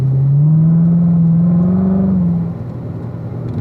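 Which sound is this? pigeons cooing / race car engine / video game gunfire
race car engine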